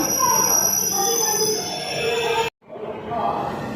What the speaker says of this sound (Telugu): ఏ ఇలా తీసాడు మళ్ళీ మన ట్రైన్ అలా స్లో చేసాడు